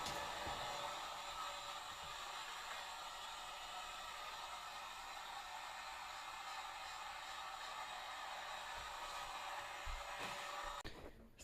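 A heat gun warms vinyl wrap on a police pedal car, producing a steady close hiss of blowing hot air that runs unbroken for about ten seconds before cutting off.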